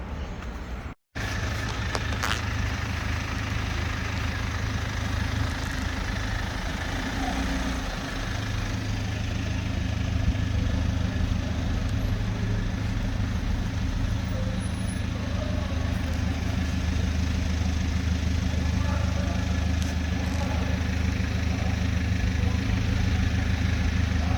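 A BMW car engine runs steadily while driving, a continuous low drone with road rumble that holds even and fairly loud from start to finish, briefly cut out once near the beginning.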